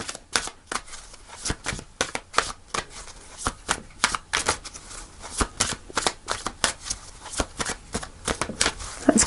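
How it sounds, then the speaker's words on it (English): Tarot cards being shuffled by hand during a reading, a close, steady run of crisp riffling snaps and flutters repeating through the whole stretch, with no voices. "Shuffle one more time."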